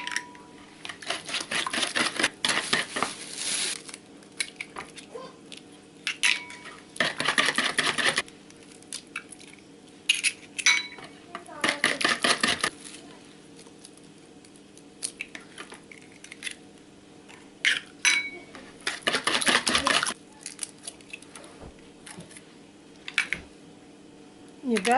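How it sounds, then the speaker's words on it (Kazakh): Eggs are dropped one at a time into a bowl of sour-cream cake batter and mixed in, giving repeated bursts of quick, scraping clatter separated by quieter pauses, close and fairly soft. "Бір-бірден жұмыртқаларды салып араластырамыз"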